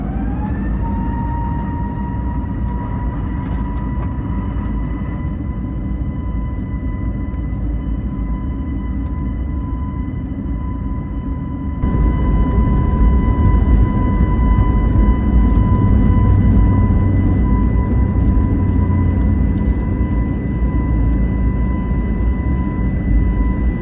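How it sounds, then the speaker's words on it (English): Inside the cabin of a Cathay Pacific Airbus A321neo on takeoff, a steady loud engine roar with a high whine jumps louder about halfway through as power builds, with no one talking. "And it's time for takeoff to Kuala Lumpur."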